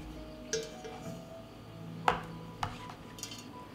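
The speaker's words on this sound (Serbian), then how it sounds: "na dno stavljam krpu i unutra tegle" Glass jars are set down one by one into a cooking pot lined with a cloth, giving four soft, muffled clinks spaced apart in a quiet kitchen.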